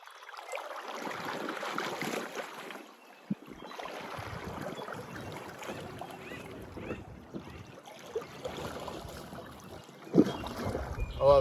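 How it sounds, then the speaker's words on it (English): A Crescent CK1 kayak spun around by a few paddle sweep strokes on open water, with steady splashing and wash over wind noise and intermittent sharper paddle strikes near the end. "just a few sweep strokes and this thing just spins around on a top"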